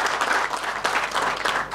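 A short burst of audience applause for former federation presidents, dense clapping from a seated crowd at a formal gathering, close and even throughout.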